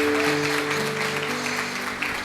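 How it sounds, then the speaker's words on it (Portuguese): Mothers being honored at a Mother's Day church service draw applause, a dense wash of clapping from the congregation that lasts briefly, with sustained organ or keyboard chords sounding underneath. "dê uma salva de palmas para essas mães aqui"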